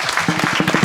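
A kirtan audience claps for a young girl who is about to recite a pledge, a short, close burst of applause with faint voice sounds mixed in.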